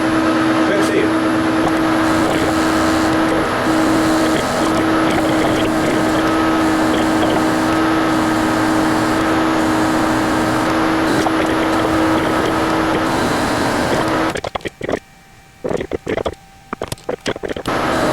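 A lathe turns at about 400 RPM while machining a top cover for a cycloid drive, making a loud, steady motor drone with a sustained tone that cuts off near the end into scattered shop noise.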